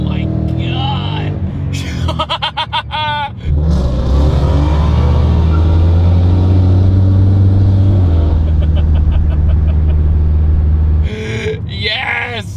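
A supercharged 10-speed Ford Mustang GT on Michelin PS4S tires launches hard in first gear, the engine roaring loud and rising with a brief tire spin, framed by excited shouting before and after the run.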